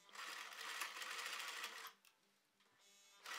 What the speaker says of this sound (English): looks like I'm struggling a little bit with that sewing machine